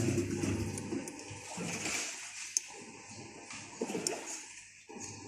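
Water rushing into an Electrolux top-loading washing machine running in test mode and showing an E31 fault: a continuous gushing, splashing flow of uneven strength, with a few small clicks and knocks, moderately close.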